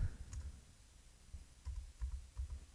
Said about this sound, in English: I'm going to type in diabetes in this text box